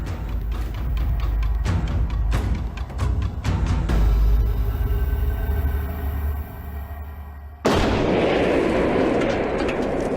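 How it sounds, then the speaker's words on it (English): Explosives detonate under a Ford Marauder car in a string of sharp, heavy booms over several seconds, followed by a loud rushing roar of blast debris and rumble. "the explosion has just dug a big hole"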